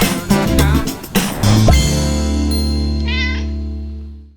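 Cat meow sound effect over a bright chime: a few short voiced chirps, then a clear meow and a ringing ding that sustains and slowly fades out.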